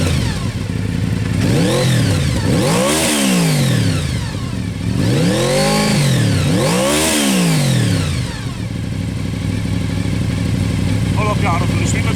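Honda VFR 750 motorcycle engine revved hard several times in close succession, pitch sweeping up and falling back between blips, loud and close over a steady engine hum with no talk.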